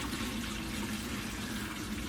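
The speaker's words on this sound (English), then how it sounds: "Just filling the water up again in the" Water running steadily from a tap into a watering can while sowing seeds and planting, a continuous close splashing fill with no talk.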